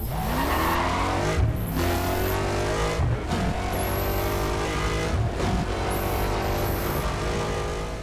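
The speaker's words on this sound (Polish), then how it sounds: "Jak słyszycie, wóz brzmi naprawdę bardzo, bardzo fajnie." A high-revving Bugatti Veyron 16.4 engine in the video game Need for Speed World roars continuously, with brief drops in pitch as gears shift, then climbs again; loud and close, no talking.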